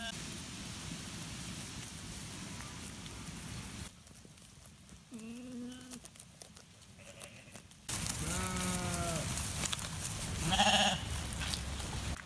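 Sheep on a farm bleat in a few short, wavering calls, one fainter and another nearer and louder, over a steady hiss of rain or wind.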